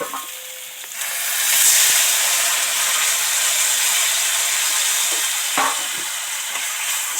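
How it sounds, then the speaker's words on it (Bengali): Water hits hot fried spices for a coriander fish curry with a loud steady sizzle and hiss, swelling after the first second and holding to the end, punctuated by a couple of faint clinks. "এবার এর মধ্যে জল দিয়ে দেবো"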